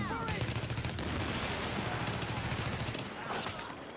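Rapid submachine gun bursts in the video game The Division, a dense, loud, continuous rattle of automatic fire filling the whole moment with only brief gaps.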